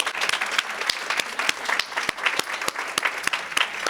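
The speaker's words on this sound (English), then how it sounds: "I would like to give them a round of applause" A luncheon audience at a women's political action committee gala gives a round of applause, moderate and fairly sparse with distinct individual claps standing out.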